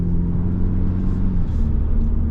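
A 2024 Hyundai Elantra N-Line drives down the road, its steady, loud engine and tyre rumble filling the cabin without a break, with a slight shift in pitch partway through.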